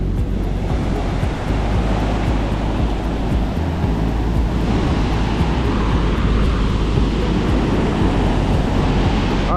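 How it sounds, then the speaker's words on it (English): Strong wind roars steadily across a shoreline as Hurricane Ernesto passes, buffeting the microphone with loud, continuous low rumble and gusts, with surf churning underneath throughout. "the wind is gonna mess with me today"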